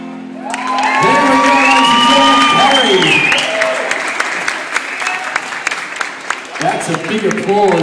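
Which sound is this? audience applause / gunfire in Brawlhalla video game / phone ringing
audience applause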